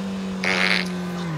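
A fart let out inside a car with the windows closed, a short buzzy burst of about half a second standing out over the steady low drone of the cabin.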